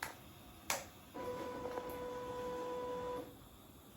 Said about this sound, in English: this is Sunima 17 motor, and with the help of GT cable and connected to the pulley, so it's going up